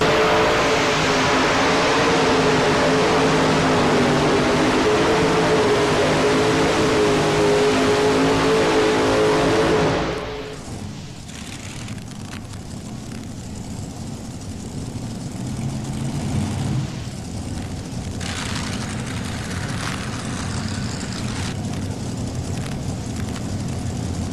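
Tractor pull engines at the 1992 National Farm Machinery Show in Louisville, Kentucky give a loud, steady roar for about ten seconds, then drop off to a lower, rumbling engine noise that carries on through the rest.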